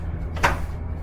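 A steel drawer in a hotel room slides open or shut in one brief scraping rush, close by over a quiet room hum.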